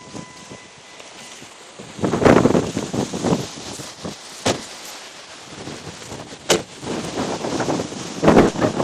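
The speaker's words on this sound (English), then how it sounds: "It's windy." Gusts of wind buffet the microphone in uneven bursts at an outdoor cemetery, with rustling and rumbling surges that come and go.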